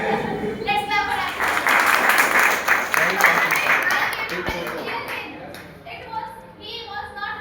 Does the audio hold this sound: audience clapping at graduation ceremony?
yes